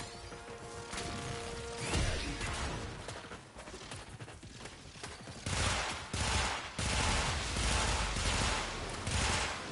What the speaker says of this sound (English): And lay some suppression fire.